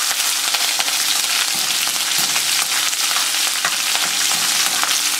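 Green chillies sputter in hot oil with mustard seeds, chana dal and urad dal, a loud, dense, continuous sizzle close by with faint stirring underneath.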